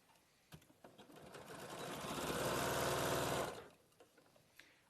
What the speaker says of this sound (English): you're just going to sew along that edge